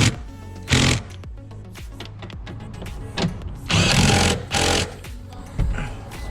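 Car seat bolts are tightened while aftermarket bucket seats are installed in an S197, giving bursts of whirring driver or ratchet noise between clicks and handling sounds, close and loud, with no talk.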